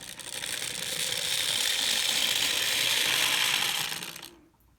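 N scale Model Power F40PH model locomotive running on track, a steady noisy mechanical whir and gear chatter that swells in, holds for about four seconds, then cuts off abruptly.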